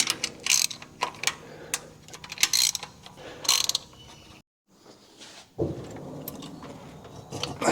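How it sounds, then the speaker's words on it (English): A wrench ratchets at close range while loosening a part on a 1965 Plymouth Satellite, giving bursts of quick clicking and mechanical clatter, then a brief pause before a steadier grinding, rattling stretch. "You're gonna make me get the other wrench out"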